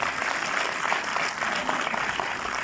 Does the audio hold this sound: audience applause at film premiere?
yes